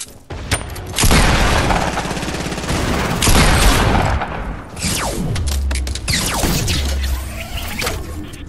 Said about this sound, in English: They're getting shot at.